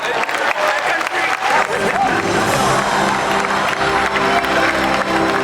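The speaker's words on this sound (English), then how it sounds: "Let's give him a big round of applause." Live audience at a Universal Studios special effects show breaks into loud, sustained applause with cheering and crowd noise, filling the whole stretch without pause.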